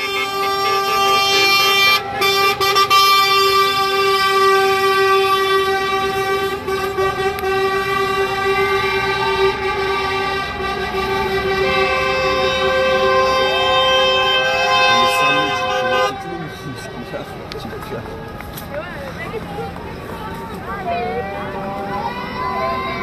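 Trucks blast their horns in sustained, overlapping tones at a toll booth blockade during a protest, the honking loud and continuous until it cuts off abruptly, leaving quieter traffic and voices.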